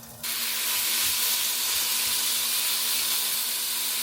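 Chunked chicken breast sizzling in a pot for a one-pot meal, a steady close-up hiss of frying that starts abruptly and holds even and loud throughout, with no voices.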